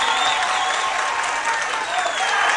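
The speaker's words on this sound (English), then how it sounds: "This crowd's starting to hoop and holler a little bit" Spectators at a Kansas 6A state championship high school softball game cheer and holler in a loud, continuous roar of applause and crowd noise as a runner comes around to score.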